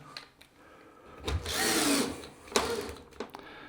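Cordless screwdriver running low on battery, a brief faint whir that swells and fades, with a short second burst and a few small clicks and knocks around it.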